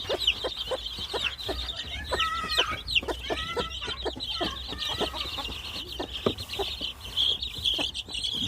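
A broody hen clucks softly and repeatedly up close while chicks peep in high, thin chirps all around her.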